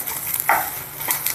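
Grated coconut and spices being lightly roasted for pineapple gojju, stirred in a pan with soft scraping and a faint sizzle over a short moment.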